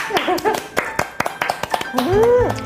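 A few people clap their hands in a snack shop after tasting kimbap, with sharp, scattered claps mixed into nearby chatter and voices.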